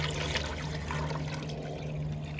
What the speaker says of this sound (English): I'm adding some more water because it came out.